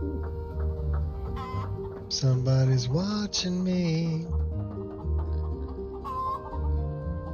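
Chickens clucking and squawking in the video game Skyrim, a loud, close cackling run in the middle with quieter clucks around it, and someone talking briefly over it.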